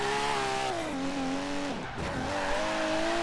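A 1992 Toyota Supra 2.0 Turbo, tuned as an A-class drifter, slides sideways in Forza Horizon 3: a steady, loud engine drone with a brief dip, layered with a continuous hiss of tire skid.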